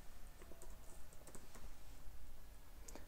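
Quiet keyboard typing while writing code, soft scattered key clicks over a steady low hum, no talking.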